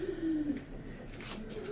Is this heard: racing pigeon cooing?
yes